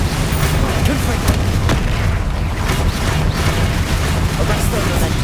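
A Confringo fire blast spell from Hogwarts Legacy sounds over dense, loud game noise, with booming blasts and crackling bursts that repeat across the stretch.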